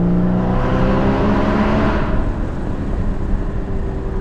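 A Porsche GT4 engine revs loud and close, a sustained rising mechanical roar that swells and then settles into a rougher drone, with no voices.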